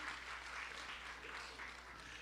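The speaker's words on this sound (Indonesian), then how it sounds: "Yang percaya tepuk tangan yang meriah bagi Tuhan Yesus." Applause from a congregation at a Christmas church service in New York, a fairly steady wash of clapping over a low hum, sounding somewhat distant and modest in size.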